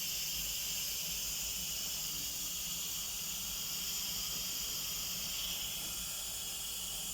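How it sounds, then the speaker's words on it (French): A continuous, steady hiss of steam venting from an Instant Pot electric pressure cooker during pressure release, bright and unbroken for several seconds at moderate level, with a faint low rumble underneath and no voices. "Donc, c'est en train d'évacuer toute la vapeur."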